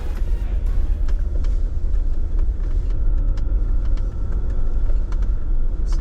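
A 4x4 leaving the pavement onto a rough mountain trail in 4 low: steady deep engine and tyre rumble heard from inside the cabin, with scattered clicks and knocks from gravel and the rough ground.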